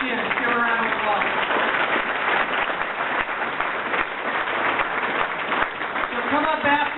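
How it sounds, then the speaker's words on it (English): Audience applause at a live event with a prize drawing, a dense, steady wash of clapping that holds loud and continuous throughout, with faint voices mixed in. "Give her a round of applause."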